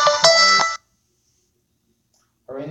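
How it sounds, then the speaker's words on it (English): A phone rings with an incoming call, a short bright electronic tone burst that cuts off into silence before another ring starts faintly at the end. "Sorry for the phone call."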